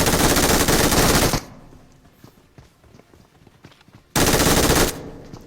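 MG3 machine gun fire in a video game, two loud rapid bursts separated by a quieter stretch of faint clicks and ambient sound.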